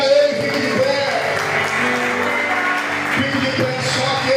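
A church congregation applauds during a Sunday service, steady sustained clapping filling the room throughout, with a sustained musical tone and voices mixed in beneath.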